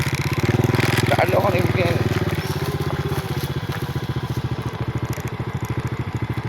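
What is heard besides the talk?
motorcycle passing nearby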